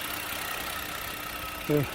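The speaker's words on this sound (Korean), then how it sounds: "제네시스 3300 V6 엔진이요." A Hyundai Genesis 3.3 V6 engine idles with a smooth, steady hum and faint knocking texture, and near the end a brief voiced sound rises over it.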